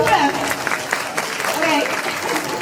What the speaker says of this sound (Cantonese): 希望大家幫我再俾多次掌聲呢個徐姑娘